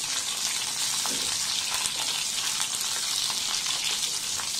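Peeled garlic frying in hot oil with cumin and mustard seeds, a steady dense sizzle with faint crackles running throughout, close and fairly loud, no voices.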